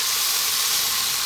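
Tomatoes cooking in a pan for a prawn garlic chilli pasta give off a steady, bright sizzling hiss, constant and close with no voices.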